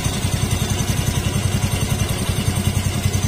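A Honda Beat FI scooter engine idles with one sensor unplugged. It is a close, steady, rhythmic putter with a fast, even pulse and light mechanical clatter, and nothing else is heard.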